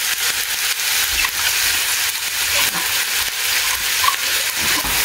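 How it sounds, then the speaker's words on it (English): Chopped vegetables sizzle steadily in hot oil in a pan, a loud, close, continuous frying hiss with small crackles throughout. "I'm going to go ahead and add in my chopped vegetables."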